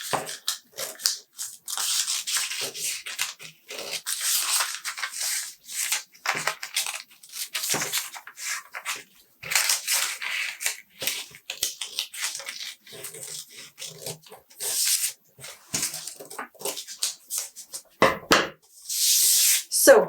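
Scissors cut fabric along the seam allowance of a Dior-inspired Y-dart dress pattern, giving repeated crisp snips and rustling bursts in an irregular rhythm, close and fairly loud.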